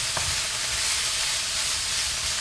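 Pork sautéing in a pan with lemongrass gives a steady, close sizzle and hiss that holds evenly throughout, with faint stirring underneath.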